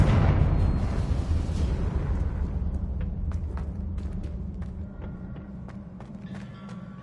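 In Hogwarts Legacy, a Confringo fire spell blast gives a heavy rumbling roar that fades steadily over several seconds, leaving faint crackles and small debris ticks as it dies away.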